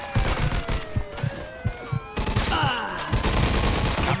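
Gunfire in the video game Mafia II Definitive Edition, rapid rhythmic bursts of close, loud shots over a dense mix of game sound, no one talking.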